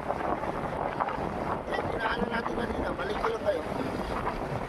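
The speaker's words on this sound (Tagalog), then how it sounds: "Malakas yung hangin sa lubog natin" Strong gusty wind buffets the microphone in a rough, continuous roar while a person talks over it, outdoors in Bangued, Abra.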